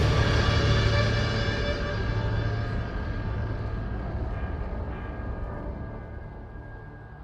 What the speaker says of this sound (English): had to do was follow the damn train, CJ.